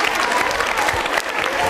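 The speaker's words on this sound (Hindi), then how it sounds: "तालियां जोरों से बजनी चाहिए।" Loud audience applause at a college quiz show, a thick, continuous roar of many hands clapping vigorously, close and full, with some crowd noise mixed in.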